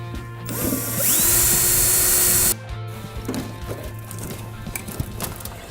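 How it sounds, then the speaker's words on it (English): A loud power drill whirs steadily for a couple of seconds, drilling mounting holes in a car firewall, then stops, followed by quieter clanks and handling noises of tools. "We'll go ahead and drill our holes."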